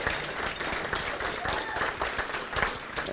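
An audience at a city State of the City address applauds, dense crowd clapping throughout with a voice faintly mixed in.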